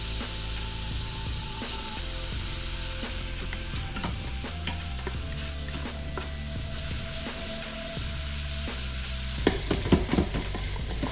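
Bacon frying in an Instant Pot, a steady loud sizzle throughout with occasional stirring scrapes and a brief louder crackle near the end.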